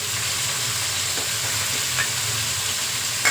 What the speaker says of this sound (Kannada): ನೋಡಿ ತರಕಾರಿ ಹಾಕ್ತೀನಿ ಇವಾಗ. Beans, capsicum